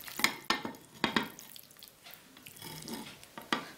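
Raw chicken drops into a pan of spices for Syrian chicken shawarma, giving a few sharp clunks and a light sizzle, followed by stirring and scraping that rises and falls over a few seconds.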